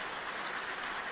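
Rain falling outside a window at night over a street with streetlights, a soft, steady hiss of drops on surfaces, fairly faint and continuous with no talking.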